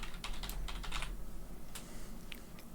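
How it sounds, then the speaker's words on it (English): Quick bursts of typing on a computer keyboard while binding controls for a VKB Gladiator NXT EVO joystick in Microsoft Flight Simulator 2024, clustered clicks early, then a pause and a few isolated keystrokes, close and moderately quiet. "we're just going to type this in"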